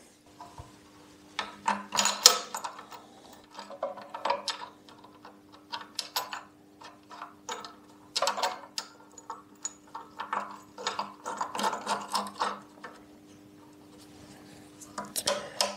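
Rapid bursts of ratchet clicking as a mechanism is tightened by hand, in uneven clusters separated by short pauses, close and fairly quiet over a low steady hum.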